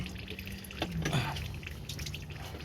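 Antifreeze drips and trickles out of the coolant line during a rear heater flush on a Toyota Sienna, a faint, close liquid dribble over a low background hum.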